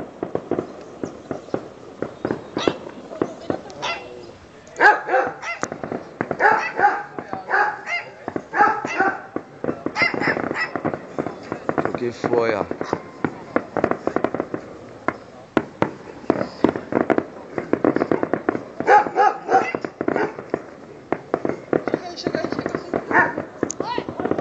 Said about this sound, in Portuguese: Os caras estourando bomba aí.